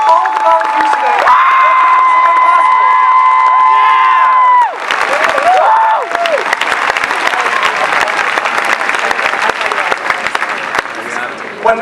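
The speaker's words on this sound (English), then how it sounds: "Let's have a round of applause" At a Women's March rally at the University of Michigan, a raised voice carries over the crowd before loud applause and scattered cheers break out and continue.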